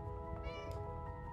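A black cat in the game Stray gives one clear, close meow over a dense, steady game background.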